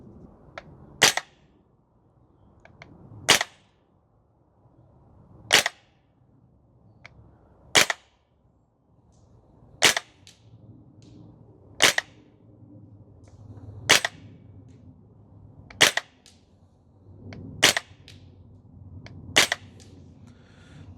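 Maruyama SCP-9 gas blowback airsoft SMG on a range, propane-powered and firing 0.3 gram BBs, snaps off about ten single sharp, close shots at roughly two-second intervals, with quiet pauses between them.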